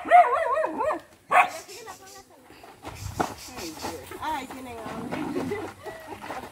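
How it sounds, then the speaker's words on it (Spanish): Several small dogs at a home yip and bark in short bursts while someone talks over them, with a cat nearby, the barks loud and close at the start and then quieter under the talk. "Hay 4 perritos."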